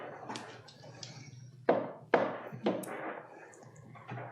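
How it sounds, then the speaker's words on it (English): A few soft knocks, three or so, spaced irregularly and fairly close, with quiet background noise between them. "No, normal knock."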